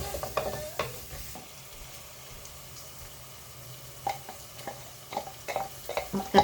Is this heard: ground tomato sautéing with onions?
yes